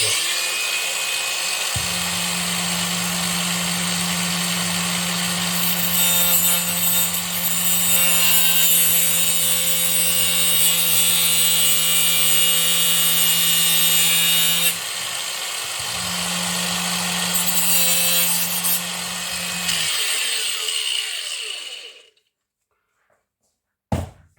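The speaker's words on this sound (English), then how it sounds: "PCB is cut really well with an angle grinder." An angle grinder cuts through a circuit board from a car's Bluetooth aerial module, giving a loud, steady whine with a low motor hum that runs about twenty seconds with one short pause before spinning down.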